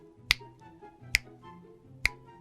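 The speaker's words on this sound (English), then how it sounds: "Snapping my fingers just inches from her face." Three crisp finger snaps ring out alone at a slow, even pace, each one sharp, close and fairly quiet against a faint background hum.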